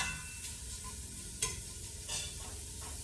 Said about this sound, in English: chopped up bacon and putting that in the pot, and we're going to cook that down until it is rendered all the fat